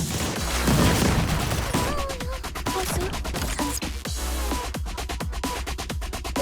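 Rapid laser fire in the Blue Archive video game, a dense run of sharp repeated shots and bursts with crashing impacts, loud and continuous over game noise and music.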